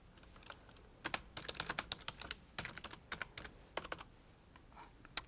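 Typing on a computer keyboard while entering graphics text for a credit roll in a broadcast studio, with irregular bursts of quick clicking keystrokes, close and fairly quiet, and no talking.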